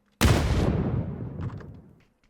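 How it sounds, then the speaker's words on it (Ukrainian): A grenade blast in the video game PUBG, a single sudden loud boom that decays over about two seconds, with faint distant shots trailing after. "Граната."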